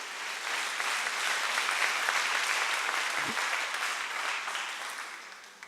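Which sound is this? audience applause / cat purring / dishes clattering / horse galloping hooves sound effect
audience applause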